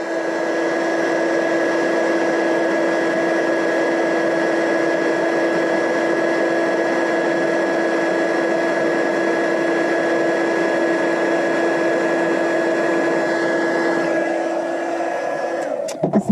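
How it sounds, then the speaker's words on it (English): A heat embossing tool runs for a long, steady stretch, a loud, even blowing whir with a constant whine, used on a stamped Christmas quilt paper craft project, then cuts off near the end. "I'm going to bring in my embossing tool."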